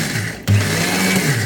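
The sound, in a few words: mixer grinder crushing cumin and vegetables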